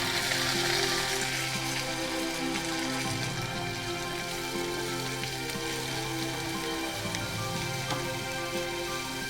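Onions hitting hot oil in a pan while cooking a simple South Indian vegetarian lunch, after mustard seeds and curry leaves, give a steady loud sizzle and crackle that runs unbroken throughout.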